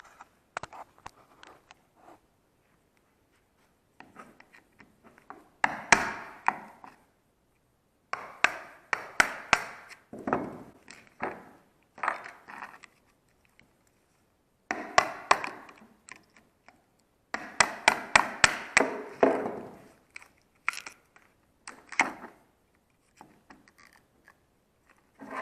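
Hand chiseling wood beside a stair banister baluster while fitting laminate flooring, heard as bursts of sharp taps and chops in irregular clusters separated by short pauses, close and moderately loud with no talking.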